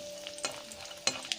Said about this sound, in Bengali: বড়িটা ভেজে নিচ্ছি